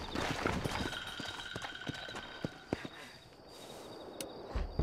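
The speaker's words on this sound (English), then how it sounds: "Looks like Carlos left us some horses." Horse hooves clip-clop in the Red Dead Redemption video game, a fairly quiet run of irregular thuds on the ground with faint insect chirping in the background.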